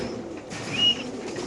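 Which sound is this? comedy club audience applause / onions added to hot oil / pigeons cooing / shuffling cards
pigeons cooing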